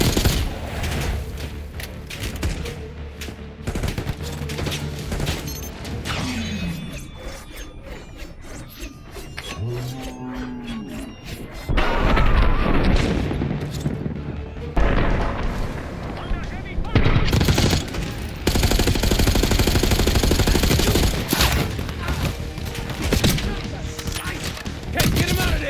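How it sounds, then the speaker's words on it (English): Gunfire in Black Ops 6 on a bridge: dense machine-gun bursts and booms, loud and near, with voices calling out over the shooting at times and mechanical clatter between volleys. "Give him some cover fire, Kate."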